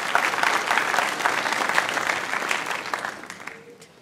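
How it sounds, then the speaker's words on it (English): A crowd at a university family day event claps together, loud at first and gradually thinning out toward the end. "let's give ourselves a round of applause for our shirts"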